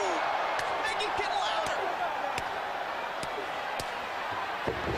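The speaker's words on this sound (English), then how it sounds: "Listen to these chops by Benoit and Holly." Loud knife-edge chops ring out in a professional wrestling match, sharp smacks echoing through an arena over a constant roar of crowd noise.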